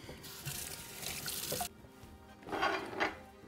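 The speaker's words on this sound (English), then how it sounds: "Let me wash my hands." Hands being washed under a running kitchen tap during home cooking, a broadband rush of water for about a second and a half, a brief pause, then a second splashing burst, close and moderate.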